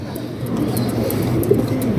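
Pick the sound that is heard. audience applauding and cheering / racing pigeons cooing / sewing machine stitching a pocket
racing pigeons cooing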